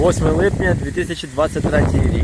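Gusty wind buffets the microphone with low rumbling bursts while a person speaks close up.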